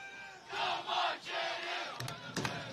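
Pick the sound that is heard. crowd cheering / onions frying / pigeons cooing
crowd cheering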